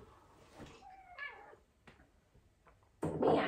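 A house cat meows a few times at close range in a quiet room, short rising calls separated by pauses, followed by a louder burst of rustling or handling noise at the end.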